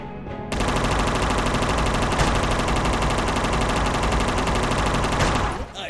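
Sustained machine gun fire in the video game Unmetal, a loud, dense, continuous burst of rapid shots that starts abruptly and runs for about five seconds before cutting off.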